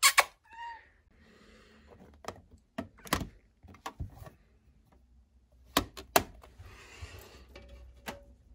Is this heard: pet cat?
yes